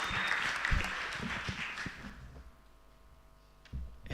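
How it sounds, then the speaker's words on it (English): Audience applause at a university postgraduate research presentation rises briefly and then fades to near quiet, with a short burst of noise at the end. "Round of applause."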